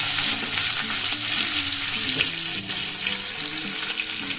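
Onion and potato frying in a pan as chopped tomato is added, a steady loud sizzle with stirring and watery spitting running throughout, no voices.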